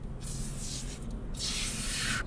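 Foam cleaner sprays inside a car interior during a home wash, two sustained hissing bursts of about a second each, close and fairly loud, with a short gap between them.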